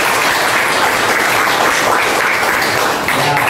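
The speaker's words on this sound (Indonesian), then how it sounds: "Tepuk tangan dulu" Students in a geography class clap together loudly, a dense, continuous burst of applause that fills the room evenly for a few seconds before easing slightly at the close.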